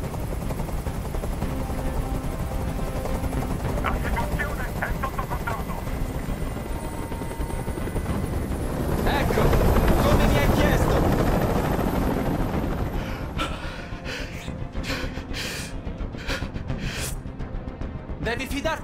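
A helicopter hovers in the video game Detroit: Become Human with a constant, loud rotor drone that swells to a peak midway and then eases. Voices talk over it throughout.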